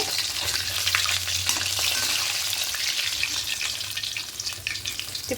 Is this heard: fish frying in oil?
yes